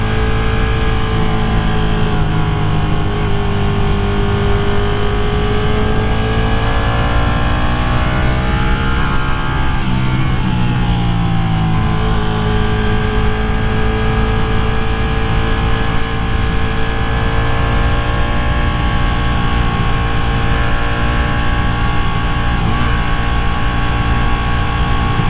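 A Ducati Panigale 959 sport motorcycle is on a test ride, its engine droning loud and steady with rising and falling revs over constant wind rush, and no one talking.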